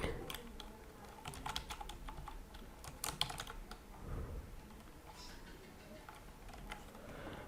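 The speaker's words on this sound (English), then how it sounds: "and here I'm typing" Typing on a computer keyboard while building a page in the GoDaddy website builder: steady, close clicking keystrokes in irregular bursts, with faint room noise and little talk.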